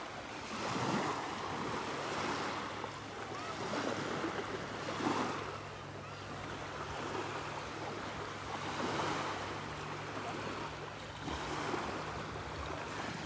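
Surf breaking on a beach in North Naples, Florida during an evening walk, a steady wash of waves rising and falling every few seconds with wind buffeting the microphone and no talk.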